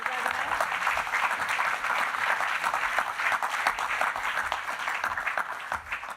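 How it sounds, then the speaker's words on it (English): A conference crowd applauds at the close of a session, sustained many-handed clapping that holds steady and then tapers off at the very end, with faint talk mixed underneath. "Very big round of applause"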